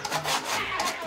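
A hand saw cuts through wood during renovation work on an aviary at a zoo, giving steady rasping strokes close by over about a second, with no talk.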